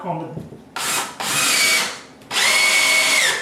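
A power drill drives deck screws into a floor under repair, in three loud whirring bursts with brief pauses between them, a pitch that rises and falls, and faint background sound.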